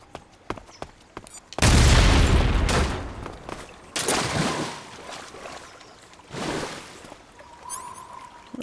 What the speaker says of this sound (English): Let's place some TNT and blow up this ammo reserve.